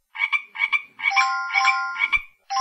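A cartoon frog croaks in a kids' piano music game app, a series of bright, buzzy electronic croaks in quick pairs followed by longer tonal croaks, loud and close with no talking.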